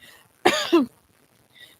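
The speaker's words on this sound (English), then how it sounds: "as soon as he finished speaking, he bent his head and coughed" A single man's cough, close and fairly loud, a short harsh burst with a brief second push, set between quiet pauses with no talking.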